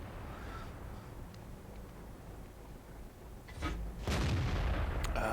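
Tank cannon fire from a World of Tanks battle, a Centurion Mk I medium tank shooting at a Conqueror: a muffled low rumble of distant gunfire swells into a loud, sharp boom near the end.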